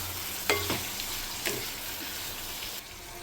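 Spoon stirring raw prawns with garam masala, coriander powder and spices in a hot pan, a continuous sizzle with a few scraping strokes against the pan.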